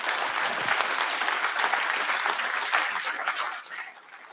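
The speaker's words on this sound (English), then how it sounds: "I just want to run another round of applause for our amazing panelists for being here tonight." Sustained crowd applause for the panelists at an evening panel event on rejecting the Line 5 oil tunnel, a dense steady wash of clapping that fades out toward the end.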